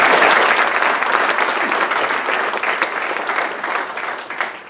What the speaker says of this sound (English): You should give yourself a clap.